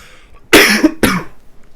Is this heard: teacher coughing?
yes